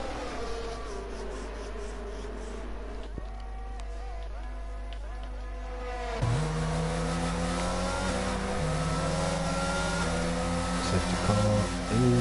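Race car engines in an F1-style racing game at Abu Dhabi, a steady droning whine that climbs and shifts pitch through gear changes, loud and continuous behind the car's own engine note.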